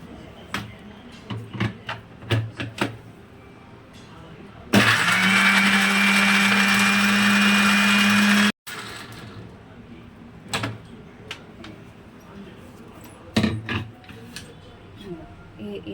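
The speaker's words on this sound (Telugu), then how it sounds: "మిక్సీ పట్టుకోవాలి, మిక్సీ పట్టుకున్నాక చూపిస్తాను" A mixer grinder grinds grapes in a loud, steady whir of about four seconds that starts and stops abruptly, with clicks, handling knocks and some speech around it.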